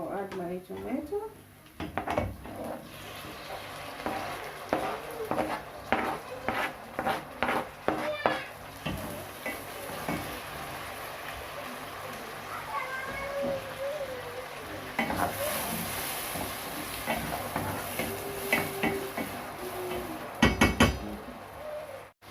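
Tomatoes frying in a pan for a simple breakfast egg sauce, with sizzling under stirring and clinks of a utensil against the pan, while a person talks over it.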